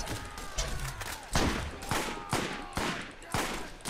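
Gunfire in the video game Borderlands, sharp repeated shots and bursts at irregular intervals over a busy game soundscape, no talk over it.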